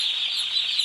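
A day-old chick's chirping, a continuous high, thin peeping held close and fairly loud for under a second, no other sounds.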